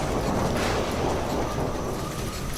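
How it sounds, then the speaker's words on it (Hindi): A fierce cartoon storm with steady, dense rain hiss and a low rumble of thunder running continuously and loudly throughout, with no talking. "वहां एक भयंकर तूफान आ जाता है"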